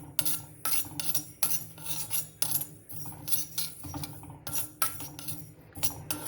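Sesame (til) seeds dry-roast in a pan while a spoon scrapes and stirs them in quick rhythmic passes. The scraping is close and comes with light metallic clinks and a soft rustle of seeds.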